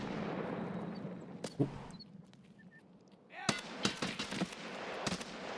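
Several sharp AK rifle shots crack out indoors in the Customs map of Escape from Tarkov, a lone report early on and then a louder cluster of bursts, with quieter game ambience in between.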